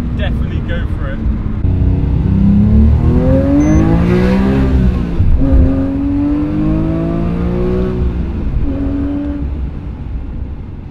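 A manual Porsche 997.2 GT3 sports car is driven hard, its engine revving and climbing through gears with rising and falling tones, loud and close from inside the car.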